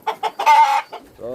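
Chickens at a small farm clucking up close, a quick run of short, loud clucks swelling into a longer squawk, then ending on a drawn-out call.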